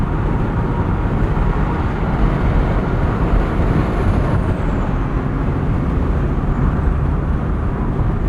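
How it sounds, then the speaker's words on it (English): Porsche 718 Boxster Style Edition, 2024, with flat-four engine and PDK gearbox, kicking down under hard acceleration while passing on the road: a steady, broadband engine and road roar that stays loud and dense throughout, with no talk over it. "Kick down, very responsive from this PDK."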